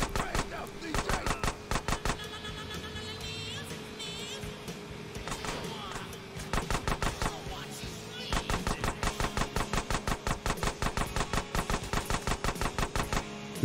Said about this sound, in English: The gun sound?